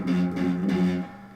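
A short guitar note from a string not pressed hard enough, with a dull, buzzy, unclear tone that fades after about a second.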